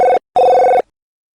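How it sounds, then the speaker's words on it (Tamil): A telephone bell rings in two loud, close bursts, a short one followed by a longer one, then stops into silence. "எவனோ ஒருத்தன் கரெக்டா இந்த நேரத்துக்கு ஒரு ரிங் பண்றான்"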